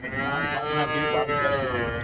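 A young dairy cow lows at the Manapparai cattle market, a sustained, tonal moo lasting about two seconds, fairly close and clear over faint market background.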